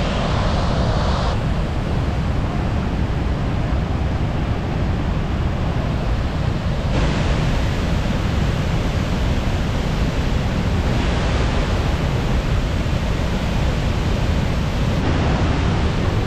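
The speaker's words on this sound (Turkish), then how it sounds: "Karşınızda Godafoss, yani Tanrıların Şelalesi." A steady, powerful roar of falling water fills the scene, broad and constant like a nearby waterfall, with wind buffeting the microphone; Godafoss waterfall in Iceland.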